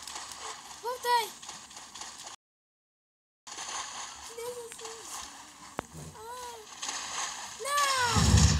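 Water splashes and sloshes in a Titanic sinking video game, with several bursts of splashing between stretches of children talking and chattering, and a louder wash of water near the end.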